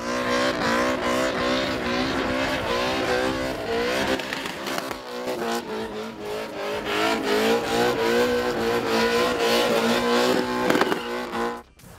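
A 650-horsepower stroker-kit SPG Corolla drift car screams around a racetrack during an Australian drifting event, its engine revving hard and steadily with rising and falling pitch, tires squealing near the end.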